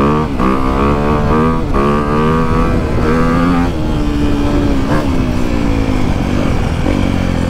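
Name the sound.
motorcycle engine while riding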